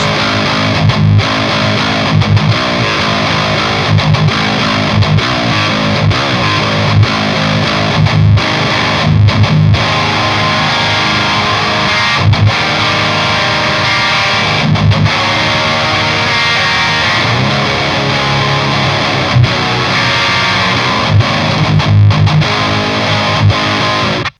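A heavily distorted, low-tuned baritone electric guitar plays thick chugging riffs and sustained chords through an amplifier, with brief pauses between phrases.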